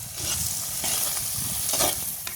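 A spoon stirs chickpea and eggplant curry in a hot pan in a village kitchen, with a constant close sizzle and frying hiss under soft, scraping stir strokes.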